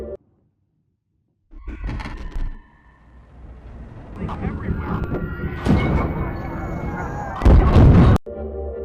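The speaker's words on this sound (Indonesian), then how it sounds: "Sebuah gelombang elektromagnetik menyebabkan lonjakan listrik sehingga terjadi ledakan" Heavy booming blasts from an electrical surge erupt after a brief silence in a film scene, a series of deep rumbling explosions building in force, with the loudest burst near the end.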